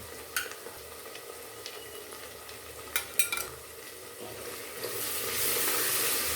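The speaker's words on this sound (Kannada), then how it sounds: "ಇದನ್ನ ಸ್ವಲ್ಪ ಎಣ್ಣೆಯಲ್ಲಿ ಫ್ರೈ ಮಾಡ್ತಾ ಬರಬೇಕು." Turmeric, chili and coriander powder fry in hot oil with a soft, steady sizzle. A few sharp utensil clicks scrape the pan, and the hiss swells louder near the end.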